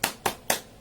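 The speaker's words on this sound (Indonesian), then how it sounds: "sebelum kita masuk ke sesi kita aja tepuk semangat untuk kita semua" Three sharp, evenly spaced group claps, about a quarter second apart, ring out as a spirited cheer (tepuk semangat) before a training session, each a crisp close burst with no talking.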